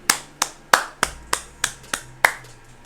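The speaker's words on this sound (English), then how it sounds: "Nah, just a clap, right?" Sharp, crisp hand claps ring out close by in a steady run of about eight, evenly spaced and alone in a quiet room.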